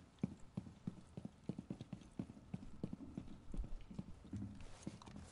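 Footsteps crossing noisy flooring in a first-person shooting video game, a quick run of hard, knocking steps in a steady, clip-clop rhythm, close and fairly loud with no talk over them.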